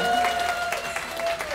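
An audience at a diet lecture in Songdo breaks into brief, moderate applause, a short patter of clapping hands in a room.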